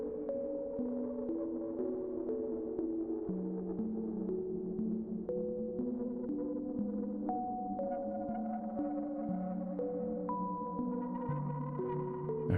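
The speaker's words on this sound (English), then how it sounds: "this will distort the repeats in the delay" Delay repeats from the Pigra Max for Live plugin in Ableton Live run through its distortion, with stepped synth notes echoing in overlapping layers and a steady buzzy edge for about twelve seconds, no voices.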